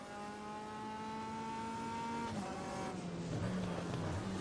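Race car in a racing game powering out of the Red Bull Mobile corner onto the main straight at the Red Bull Ring, Spielberg, its engine note climbing steadily through the gears, loud and close, then dropping as the revs fall before briefly rising again.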